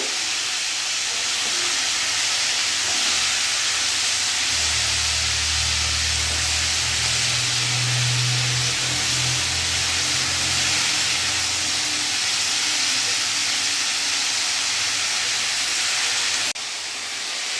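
Mixed vegetables fry in a pan for a Bengali labra, a loud continuous close sizzle that holds steady throughout, with a faint low rumble underneath and no voices.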